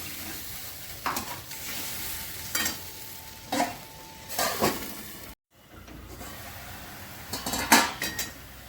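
A mustard and poppy seed masala for rohu fish bubbles and sizzles in a pan, steady and close, broken by several sharp clinks and scrapes of a utensil against the pan.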